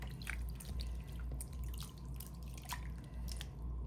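Knitted wool cowl swished gently in a basin of soaking water: soft, close sloshes and drips repeating at an unhurried pace, quiet and alone.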